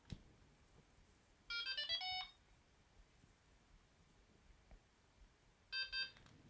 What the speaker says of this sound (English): keep all the buttons held down and wait for 2 beeps